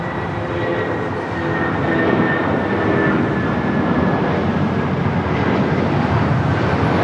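A United Airlines Boeing 757-200 takes off from Los Angeles bound for Newark, a steady, heavy jet roar that holds loud and unbroken throughout.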